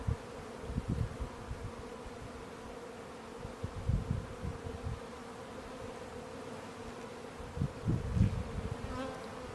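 Honey bees on a hive frame holding brood give off a steady, close buzzing drone, swelling in several louder bursts, with no voices.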